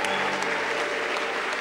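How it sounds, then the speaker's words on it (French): A church congregation applauding during a pastor's sermon, a dense, loud wash of clapping from many hands that fills the whole moment without pause. "Acclamez-les."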